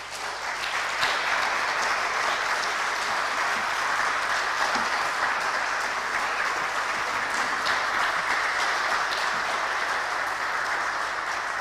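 Warm, sustained applause from a conference audience after a lecture on the Armenian Genocide, steady and dense clapping from a crowd filling the hall for the whole stretch with no pauses.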